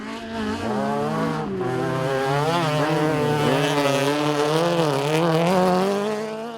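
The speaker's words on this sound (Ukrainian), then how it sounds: "Відоме в Кривому Розі місце проведення гонок на виживання знову поринуло в атмосферу шаленого драйву та реву двигунів." Car engines roar loudly and continuously at a demolition derby track in Kryvyi Rih, with a steady, rising and falling revving drone that holds for several seconds without talk.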